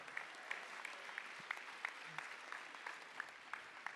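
Audience applauding finalists at the 2025 IAC finals, a steady, fairly faint wash of clapping with a few sharper individual claps standing out throughout.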